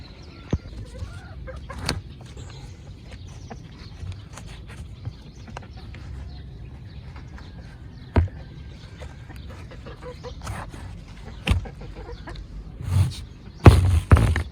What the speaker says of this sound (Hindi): मुर्गे हमारे भी इंतज़ार कर रहे हैं कि कब कोई आए खोले और हमें आज़ाद करे।